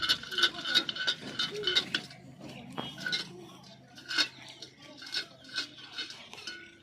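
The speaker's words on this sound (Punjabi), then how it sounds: "ਕਾਸਟਿਕ ਨਾਲ ਪਹਿਲਾਂ ਇਹਨੂੰ ਸਾਫ਼ ਕੀਤਾ ਹੈਗਾ ਫਿਰ ਇਸੇ ਤੇ ਚੜਾਵਾਂਗੇ ਕਲੀ ਹੁਣ ਇਹਦੀ ਭਾਂਡੇ ਦੀ ਸਫਾਈ ਹੋ ਰਹੀ ਹੈਗੀ" A metal pot is scrubbed clean with caustic before tinning, heard as a run of irregular metallic scraping and clinking strokes, fairly close and moderately quiet, with faint voices in the background.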